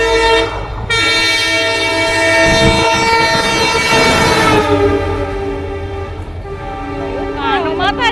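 Riding inside a moving train, with a loud, steady train horn blaring for several seconds over a continuous rumble of the carriages in motion.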